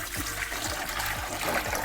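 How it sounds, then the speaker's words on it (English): About 6 liters of water poured into a large electric pot to cook tapioca pearls for boba, a steady splashing, trickling pour close by with no talking. "I've got my 6 liters of water here that I'm gonna pour in"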